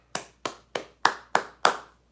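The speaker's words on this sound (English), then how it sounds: "Give them a round of applause as well." A single person claps six times at an even pace, sharp and close in a quiet room, each clap ringing briefly before the next.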